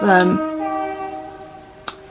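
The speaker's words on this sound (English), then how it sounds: "Sorry, that's a train." A train sounding its horn as it passes outside an open window on a warm day: a loud, sustained multi-tone blast that fades over a couple of seconds, followed by a brief knock indoors.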